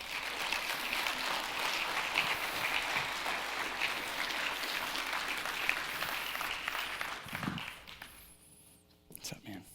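Audience applause at a church-style testimony event welcoming a guest speaker, a sustained steady clapping from a crowd that fades after several seconds as murmuring and voices come in.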